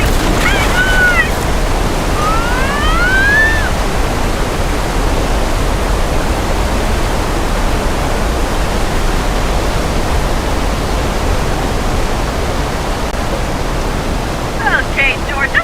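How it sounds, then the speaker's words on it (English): Steady, loud broadband hiss of simulated rain and rushing flood water from a Minecraft theme-park ride effect, running continuously throughout with a few brief chirping, whistling tones near the start and end. "how we make rain and floods happen on set"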